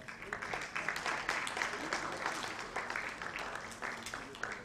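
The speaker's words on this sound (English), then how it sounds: "A huge round of applause." An audience claps at the launch event for the Reso Villa project, with sustained, fairly faint applause lasting the whole stretch, some voices mixed in beneath.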